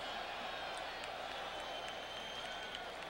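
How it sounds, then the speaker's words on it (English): Crowd noise at a 2002 Texas versus Texas A&M college football game, a steady distant stadium roar with faint cheering and clapping, under broadcast commentary. "The crowd getting into it a little bit."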